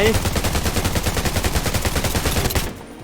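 Rapid automatic gunfire pounds steadily at close range in the mobile survival game Undawn as a player shoots down a level-4 house, a dense unbroken burst that cuts off abruptly near the end.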